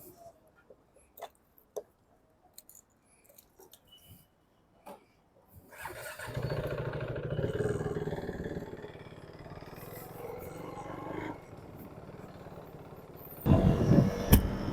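A motorcycle engine starts after scattered faint knocks, then runs steadily at a rough mid-pitched rumble for several seconds before revving up louder near the end as it pulls away.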